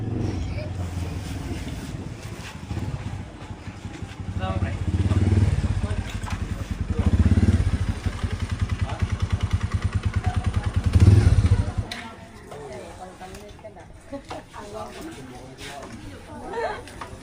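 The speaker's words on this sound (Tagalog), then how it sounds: "Gasolina engine." A brand-new gasoline engine meant for a boat runs nearby, its loud mechanical drone rising and falling in surges before dropping to a lower idle, while people talk over it.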